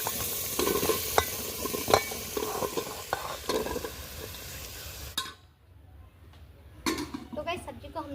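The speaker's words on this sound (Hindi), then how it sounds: "अब हम अरबी को मिला देंगे इसके अंदर।" Steady sizzling of colocasia in hot spiced oil with scraping and clinking of a spoon against a pan as it's stirred, then a pause and more stirring.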